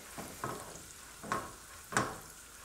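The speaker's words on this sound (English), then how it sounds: "Get them really sauteed well, so they get real soft." Garlic, cauliflower and mushrooms being sautéed in a skillet for a keto dish: a soft sizzle with three or four distinct stirring scrapes, close but fairly quiet, and no speech.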